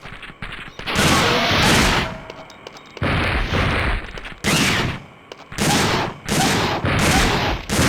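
Shotgun blasts fired at a pack of dinosaurs in Dino Crisis 2, a series of loud, booming shots in quick bursts, each followed by a short ringing decay, with brief gaps between volleys.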